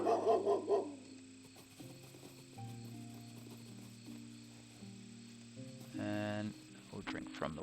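A dog in the video game Swordhaven barks in a brief burst of several quick yaps at the start, followed by chiming game music and tones.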